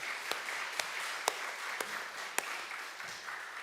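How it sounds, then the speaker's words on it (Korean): Applause from a church congregation at a Sunday service welcoming visitors, a faint, steady patter of clapping with a few sharper claps standing out, continuing alone throughout. "박수로 환영합니다."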